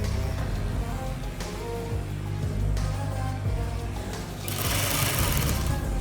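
Sewing machine stitching a lining into a six-piece bandless skirt near the zipper, a close, steady mechanical whirr with rapid needle chatter, ending in a louder burst.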